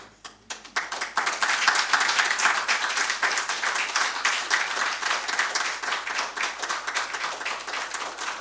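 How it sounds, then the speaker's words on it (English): A crowd applauds steadily, dense clapping that starts abruptly, builds quickly and holds loud for several seconds. "the chairman and the committee deserve another round of applause"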